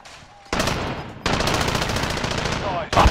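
Light machine gun fire in Call of Duty Warzone, two bursts of rapid automatic shots, the second longer and sustained, loud and close, followed by a sharp final crack.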